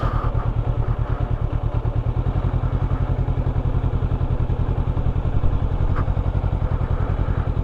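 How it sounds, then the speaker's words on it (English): A motorcycle with its stock exhaust idles steadily close by, a deep, even rumble with rapid low pulses and no talk throughout. "With my nice sounding stock exhaust"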